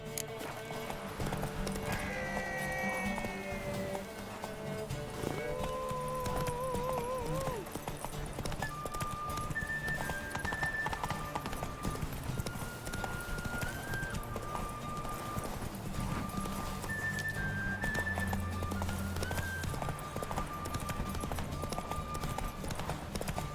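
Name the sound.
horse Roach galloping in video game The Witcher 3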